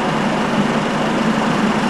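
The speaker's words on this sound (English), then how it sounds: "we're stuck in this taxi stand with 15 idling cars at a conference on climate change" Several cars idle together at a taxi stand outside a climate change conference, a steady low engine rumble with broadband noise that stays constant and fairly loud for the whole stretch, with no talking over it.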